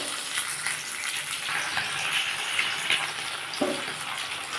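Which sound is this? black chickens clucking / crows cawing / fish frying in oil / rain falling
fish frying in oil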